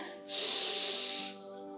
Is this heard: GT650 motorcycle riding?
no